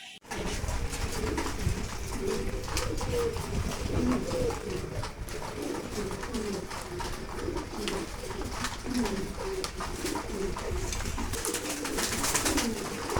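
Pigeons at a pigeon farm coo continuously, many soft overlapping throaty calls close by over a steady hum of background noise and wing rustles, without speech.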